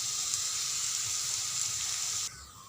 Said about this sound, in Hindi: अब एक साथे साथ डाल देथन तले हुए आलू संगवारी हो यही में और सब एक साथ भूनबो अच्छा से